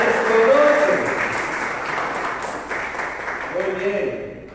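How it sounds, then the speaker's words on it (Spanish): Congregation applause fills a church service, a steady wash of clapping lasting throughout with voices talking over it. "Damos un aplauso por favor a la egresada."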